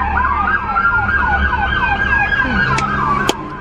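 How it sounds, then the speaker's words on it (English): A loud ambulance siren wails in rapid repeating sweeps close by, passing an apartment building, with road traffic rumbling underneath. "Ambulances drive past my apartment building."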